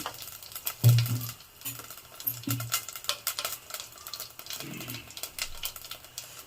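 Mustard seeds and cumin fry in hot oil for chickpea flour sambar, giving a faint, continuous crackle and sizzle. A few louder clinks and knocks from the pan stand out near the start.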